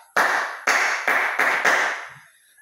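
A classroom of students claps five times in a steady, even beat for a classmate after a lesson on caring for the eyes and mouth. The claps are loud and close, then fade out.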